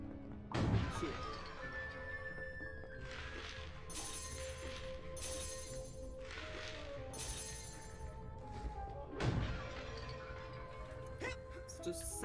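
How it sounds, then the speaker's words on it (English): An object shatters in the video game Psychonauts, sharp crashing breaks with glassy clinks, two louder impacts standing out among game music and effects, heard fairly quietly. "satisfying shatter sound."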